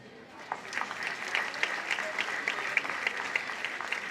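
An audience claps steadily for several seconds at a Women's Day event, a warm, even patter of many hands in a hall.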